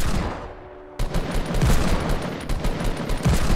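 Rapid gunfire in the Fortnite Battle Royale video game, loud and dense, with bursts that continue almost without pause after a brief quieter lead-in.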